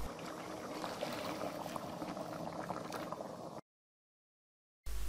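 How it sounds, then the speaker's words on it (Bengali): Boiling hot water pours steadily into a simmering chicken and potato curry, a continuous bubbling hiss that cuts off abruptly, with no one speaking. "আবারও দিয়ে দেব ফুটন্ত গরম পানি"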